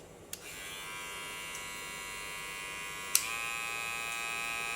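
A Suprent Zeus rotary-motor hair clipper runs alone with a steady, close electric buzz and a bright whine. Two brief clicks come near the start and again about two-thirds through, where the tone shifts slightly.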